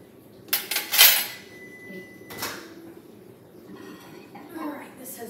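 A spoon stirs chocolate pieces for pumpkin pie spice chocolate bark in a metal pan, giving a few sharp clinks and scrapes early on, then quieter scraping while a person talks throughout.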